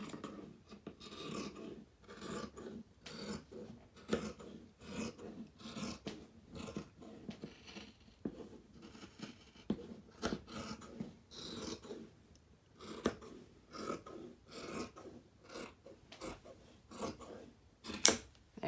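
Scissors cutting across dress fabric, quiet and close, with a steady run of crisp snips and rasping blade strokes at an even rhythm, no talk.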